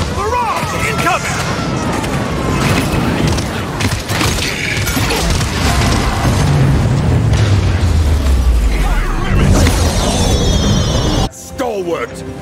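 Heavy, booming explosions from a barrage in the Paladins video game roll loudly and continuously, with game voice lines and effects layered over them.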